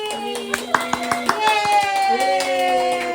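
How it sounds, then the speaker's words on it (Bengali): Hands clap in a short burst of sharp claps at a first birthday party, mixed with singing voices and a musical tone, fading into continued voices. "হাততালি।"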